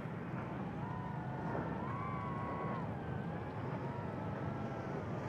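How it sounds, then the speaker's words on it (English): A boat passes at a moderate distance, its engine a wavering drone that rises and dips in pitch, heard over steady wind rumble with no voices. "I can hear this boat driving by."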